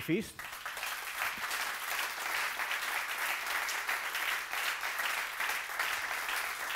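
An audience at a talk on synchronization in nature applauds steadily for several seconds, dense and continuous clapping filling the room, with a brief voice at the very start.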